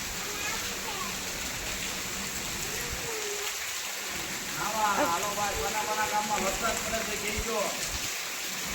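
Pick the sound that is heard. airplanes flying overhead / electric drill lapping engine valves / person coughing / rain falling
rain falling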